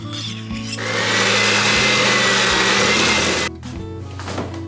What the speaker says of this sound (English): Next, let's stir in our sour cream. I'm just going to mix it on low.